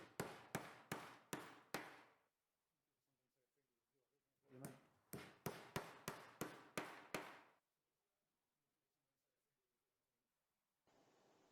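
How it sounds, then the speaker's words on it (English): Two bursts of sharp, evenly spaced hammer blows, about five to seven strikes each, driving nails into wooden branches on a recycled-wood Christmas tree trunk, close and loud with a quiet pause between the sets. "and then hammering in 2 nails again."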